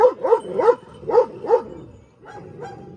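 Kangal dog barking in a run of about five deep, close barks in quick pairs, then a softer whine-like trailing sound as it quiets down.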